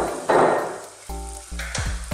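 Onions, carrot and potato hit a hot pot, giving a loud sizzle followed by stirring clunks and scraping, all close up with no talking.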